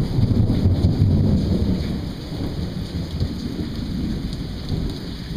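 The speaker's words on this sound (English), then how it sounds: "Oh, look at all the rain." Heavy summer afternoon rain pours steadily on Daniel Island with a low rumble of thunder near the start, then continues as a dense, even hiss.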